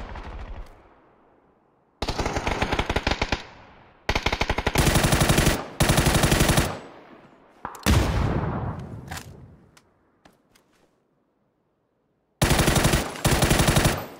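Automatic weapons fire in PUBG comes in several loud, rapid bursts separated by gaps of silence, with a scattering of single shots and some fading echo between volleys.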